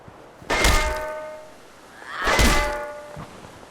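A frying pan strike from a Fallout 4 mod rings out twice as a sharp metallic clang with a short, ringing tail, the two hits about two seconds apart.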